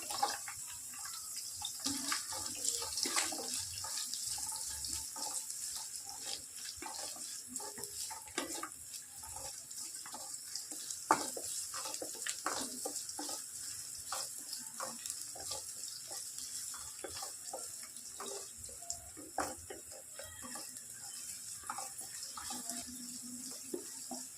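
Finely chopped small onions sizzle and crackle in a hot pan while cooking for a Tamil pea curry (pattani kuzhambu), a steady, fairly soft frying hiss with scattered pops throughout, no voices.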